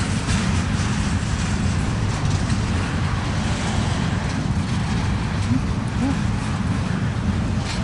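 Freight trains crawl slowly through P yard, giving a steady, dense low rumble with broad hiss that holds evenly throughout, without distinct clanks or horn.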